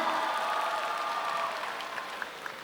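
A campus event crowd at Universitas Indonesia claps steadily, loud at first and gradually thinning out, with scattered individual claps near the end.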